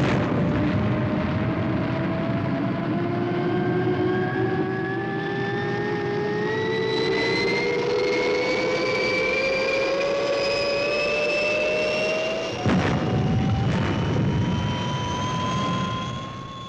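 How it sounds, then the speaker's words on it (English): A spacecraft engine roars at liftoff in a loud, continuous rumbling blast with a rising whine, sustained throughout with a brief surge partway through; no talking. "All systems go, Matt. Clear for liftoff, Steve."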